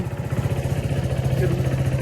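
A motorcycle engine has just started and idles in a quick, even putter, with people talking over it.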